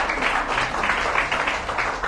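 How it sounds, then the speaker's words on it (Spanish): A church congregation applauds during an evening service, a dense, steady wash of clapping that fills the whole short stretch with no voices on top. "Dele un fuerte aplauso al Señor."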